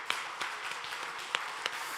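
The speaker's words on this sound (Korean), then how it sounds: "우리 하나님께 감사와 영광의 박수를 올려드리겠습니다" A church congregation breaks into scattered applause during a Sunday morning worship service, a soft wash of clapping with a few sharper claps standing out, fairly distant and brief.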